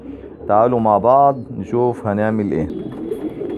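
Domestic pigeons coo softly in a loft under someone speaking Arabic close to the microphone. The birds stay partly masked by the talk.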